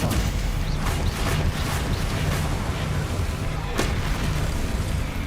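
Stupefy stunning spell impacts in the Hogwarts Legacy video game land as repeated sharp cracks over a dense, rumbling battle din, with a loud burst near the end and speech in the mix.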